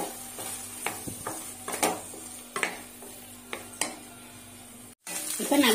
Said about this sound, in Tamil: இந்த அளவுக்கு ஆறுன சாதத்தை இப்ப கலந்துக்கலாம் கலந்துட்டு நல்லா கலந்து விட்டுறலாம்